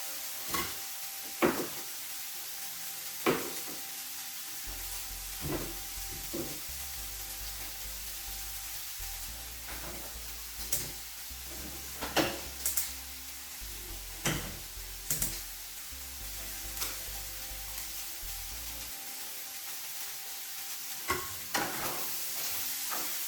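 Bacon sizzles quietly in a pot, a faint bed of frying hiss broken by scattered sharp clicks and knocks of utensils against the pot at irregular intervals, with a low hum in the middle stretch.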